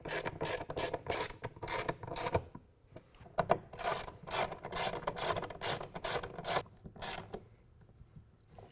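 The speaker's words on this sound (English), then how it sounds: "we're going to use a ratchet rather than the impact driver so we don't over torque these" A hand ratchet clicks in quick rhythmic bursts while tightening bolts during a retractable tonneau cover install on a 2016 Toyota Tacoma, with short pauses between runs of close, raspy ratcheting.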